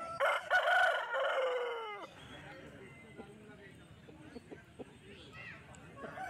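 A rooster crows loudly near the start at a rural chicken market in Jhargram, West Bengal, its call trailing off into market bustle, distant clucks and faint hoof-like clops, with people talking around.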